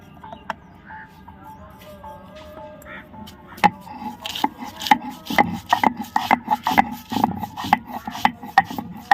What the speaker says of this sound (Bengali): রসুন বেটে নিব